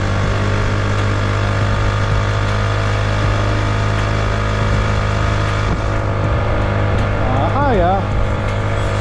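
A motorized BMX bike with a 44-tooth sprocket climbs a hill on a short afternoon ride, its small engine droning loudly and steadily with wind rush, while a voice briefly rises near the end.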